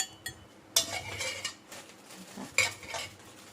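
Chili paste ingredients for Thai mackerel nam prik pounded in a mortar, a few sharp, irregular thuds and clinks, moderately close, with no talking.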